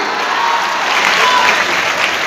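Dense, steady audience applause at a school awards function, loud and continuous throughout with no voices on top.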